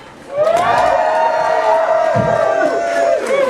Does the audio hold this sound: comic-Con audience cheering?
yes